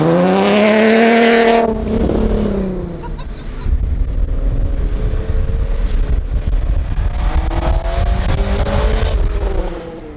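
A Honda car engine with a newly installed intake, revving hard and loud close by in sustained bursts with a rising whine, briefly dipping before climbing again.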